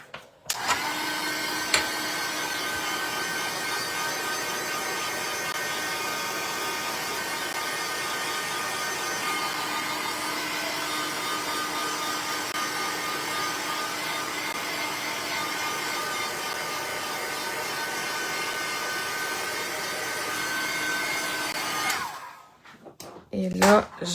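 A hand-held dryer blowing on a freshly washed craft item, a steady whirring motor hum with a high whine that runs continuously for over twenty seconds before cutting off, close and loud, with brief talk around the edges.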